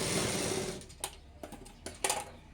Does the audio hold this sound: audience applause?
no